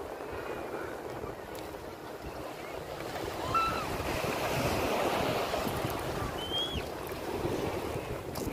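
Ocean surf rolls onto Piçarras beach in Santa Catarina, a steady wash of breaking waves with some wind rumble on the microphone and faint background sounds of a busy summer weekend.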